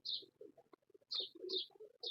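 A golden quail-cross pigeon coos softly in low murmuring pulses, mixed with brief high chirps repeating about every half second, quiet and close with no talking.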